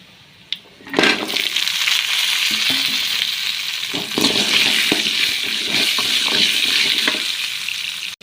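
Shallots, ten garlic cloves and two green chillies hit hot oil in a pan with a sudden loud sizzle, then keep up a steady crackling hiss under repeated stirring scrapes.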